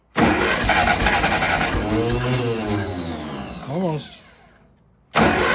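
A tractor engine cranks loudly up close, catches briefly with a rising and falling rev, then dies away. A short word is spoken, and the cranking starts again at the end.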